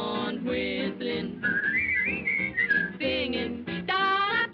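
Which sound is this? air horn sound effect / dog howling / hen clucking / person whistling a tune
person whistling a tune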